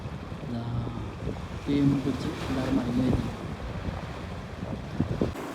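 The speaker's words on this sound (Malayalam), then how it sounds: "ഫുള്ള് ഒരു ബോട്ട് പോകുന്നുണ്ട് ബാക്കിൽ" A fishing boat passes offshore at a beach where the sea meets a river, its low engine drone mixed with rolling waves and heavy wind buffeting the microphone while a person talks over it.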